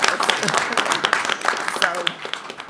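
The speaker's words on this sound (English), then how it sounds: "And I think we deserve a round of applause." Applause from attendees at a university board committee meeting, a modest cluster of claps with individual hand strikes standing out, mixed with some voices and room chatter.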